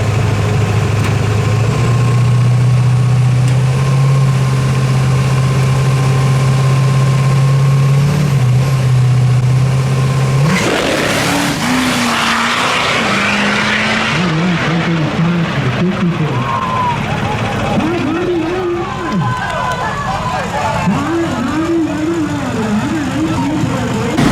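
A drag-racing pickup powered by an LB7 diesel with a 4L80E transmission idles with a loud, steady low rumble, then shifts into a rougher, noisier running note while someone talks over it throughout.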